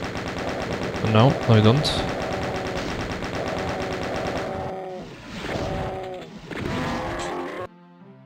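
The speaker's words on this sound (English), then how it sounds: "I guess I have to chain gun the Baron." Rapid rattling chaingun fire from the Doom shooter game hammers at a Baron of Hell in steady bursts, with monster grunts and game effects mixed in, while someone speaks briefly over it.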